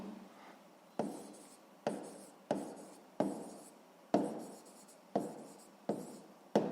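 Pen writing on paper while working a sixth-grade maths exercise: about eight short, scratchy bursts of strokes in an even rhythm, close and quiet, with no talk.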